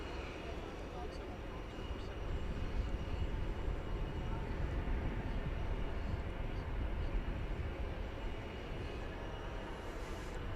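An American Airlines Boeing 737-800 arrives at DFW Airport at night, a steady, broad jet roar held at moderate distance and fairly faint throughout.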